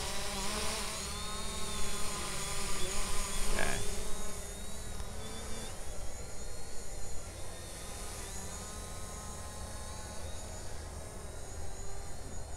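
A Hubsan Zino drone flying an orbit, its steady high-pitched rotor whine sustained throughout with slight pitch shifts as it circles, fairly close, with a brief louder swell early on and no speech.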